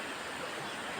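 Water gushing by itself from a hand pump, a continuous, dense rushing flow heard close and steady, without voices.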